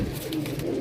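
A pigeon coos in a soft, low, continuous burble, close and alone for under a second.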